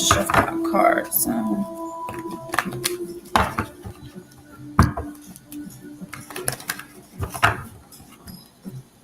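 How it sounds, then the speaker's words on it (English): A deck of tarot or oracle cards being shuffled by hand in a quiet room, giving repeated crisp riffles and soft slaps in uneven bursts, close to the microphone with no talking. "Let's just shuffle my cards."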